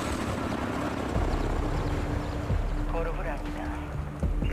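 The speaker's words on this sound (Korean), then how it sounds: "헬기 접근 중." A helicopter approaches in the video game Call of Duty: Modern Warfare 2 (2022), its steady rotor thrum and engine drone running throughout, with game voices speaking over it.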